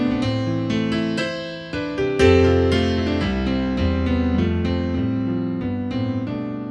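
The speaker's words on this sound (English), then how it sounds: "It's the chord progression from Pachelbel's Canon, written long ago." A piano plays the Pachelbel's Canon chord progression, with sustained bass notes under a steady flow of struck chords and melody notes, clear and close, and no talking.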